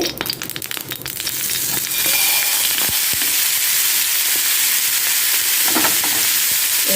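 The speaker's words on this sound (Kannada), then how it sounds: "ಎಣ್ಣೆ ಒಳ್ಳೆ ಬಿಸಿ ಆಗಲಿ ಈಗ ಮೀನಿಡಿ" Fish dropped onto a banana leaf in hot oil bursts into a loud, crackling sizzle. It starts with sharp spits, then settles into a dense, steady frying hiss close by, with no talking.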